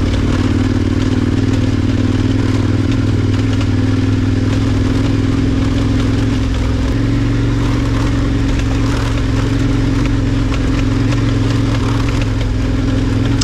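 A motorcycle on Mitas E07 tyres rides a leaf-covered fire road, its engine droning loud and steady close up with rumble and rattling clatter throughout.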